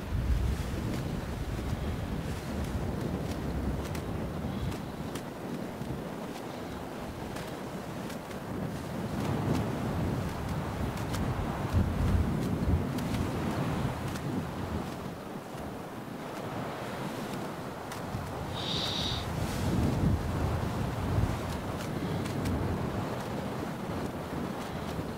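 Steady rushing water and wind noise from a river descent in the survival video game Sons of the Forest, a continuous broadband wash that swells gently at times, with no talking.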